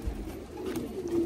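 Pigeons softly cooing inside a racing pigeon loft, a low murmuring coo running steadily through the whole short stretch without any talk.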